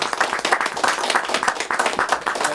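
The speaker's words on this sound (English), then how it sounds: "Another round of applause." A concert audience applauds after a flute recital, with dense, steady clapping from many hands that holds at an even level for a couple of seconds.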